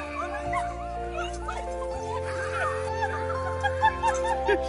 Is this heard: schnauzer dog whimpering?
yes